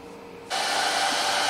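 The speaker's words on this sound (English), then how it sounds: "Warming up the 2 parts with the hair dryer." A hair dryer switches on after a quiet moment and blows a steady, loud broadband rush, warming the two halves of a broken guitar neck before gluing on a repair bench.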